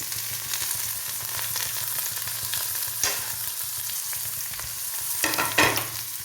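Curry leaves sizzling in hot oil in a pan with onion and garlic for a Kerala cucumber, drumstick-leaf and dal curry, a steady crackling hiss with a few sharper pops and stirring scrapes, close and continuous.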